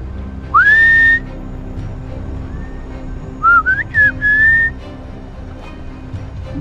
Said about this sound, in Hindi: दिख रहा है भाई ये भी सीटी बजा रहा है, और सामने से भी इसका कोई दोस्त है